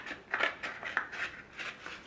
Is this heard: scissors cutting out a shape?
yes